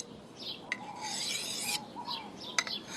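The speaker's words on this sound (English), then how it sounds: "When you sharpen the knife, it's a lot like taking a small slice off of the top of the stone." Camp knife blade stroked across a sharpening stone, several close rasping passes in a loose back-and-forth rhythm with short scraping clicks.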